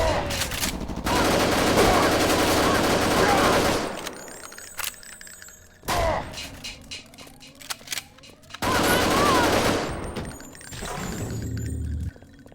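Plasma rifle gunfire in Deus Ex, loud, dense sustained bursts alternating with short quieter gaps, with crackling and zapping energy texture throughout.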